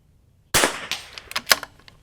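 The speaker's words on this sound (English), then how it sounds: "I'm putting full weight of the rifle there, and it closes smoothly." Bolt-action rifle in a Masterpiece Arms Matrix Professional chassis, its bolt closing while feeding a round from the magazine: a sharp metallic clack followed by a quick run of smaller clicks and rattles, close and isolated.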